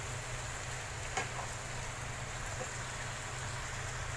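Pechay and other ingredients sautéing in a pan give a steady, close sizzle, with a faint scrape of stirring and no voices.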